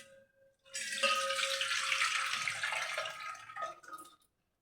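Soaked green gram and poha are washed in water, giving a few seconds of rushing, splashing water after a quiet start, then fading to silence.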